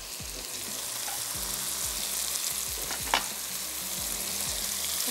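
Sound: onion frying in oil

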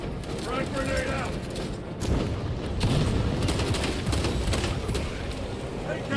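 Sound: frag grenade explosion and gunfire in video game Space Marine 2

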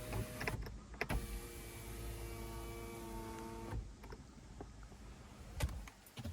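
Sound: car panoramic sunroof motor operating

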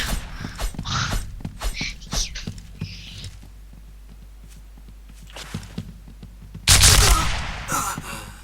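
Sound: gunfire in the video game Point Blank

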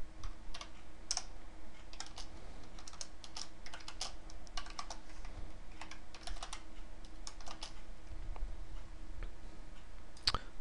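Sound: typing on computer keyboard

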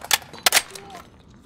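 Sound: gunfire in the video game Call of Duty: Modern Warfare Warzone

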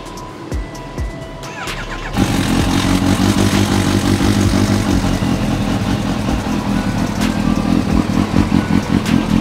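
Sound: Kawasaki Ninja H2 motorcycle engine started and revving

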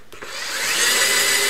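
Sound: drill drilling out screw mounts

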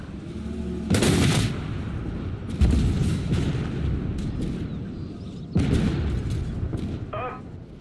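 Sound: tank cannon shot from a Challenger in video game Armored Warfare

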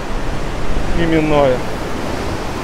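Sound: stormy sea waves at the shore

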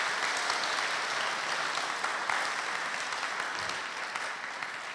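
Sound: audience applause for a church choir

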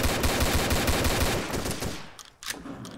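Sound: gunfire from a video game, Codename Cure

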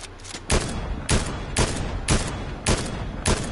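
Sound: gunfire in the video game Fortnite

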